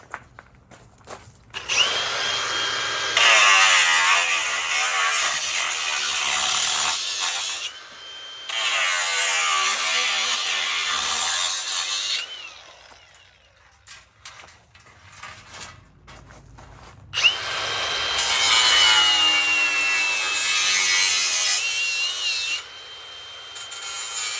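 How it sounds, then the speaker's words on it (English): Harsh, high-pitched grinding of an angle grinder cutting through the metal lock of a fire alarm panel in long loud bursts, with pauses and a quieter stretch between cuts. "if somebody still wanted to break into the fire alarm panel, but they couldn't afford a drill, but they could steal an angle grinder"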